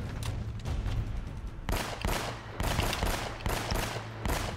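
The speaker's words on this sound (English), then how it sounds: "there's a gunfight breaking out immediately" Gunfight in the video game Uncharted: Drake's Fortune, with rapid bursts of automatic and single gunshots from several weapons, loud and close, coming in repeated volleys.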